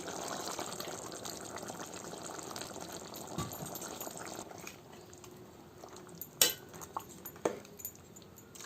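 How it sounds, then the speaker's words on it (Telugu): Tomato puree is poured into a pot of chicken pulusu, a soft wet pouring and splashing at first, then quieter with a few sharp clinks of a utensil against the pot. "ఇప్పుడు రెడీ చేసి పెట్టుకున్న టమాటా ప్యూరీ వేసుకోవాలండి"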